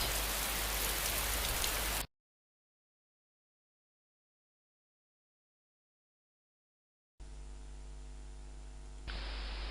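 Late-autumn rain falling on a surface, a steady hiss of drops that cuts off into silence, then returns more faintly over a low electrical hum.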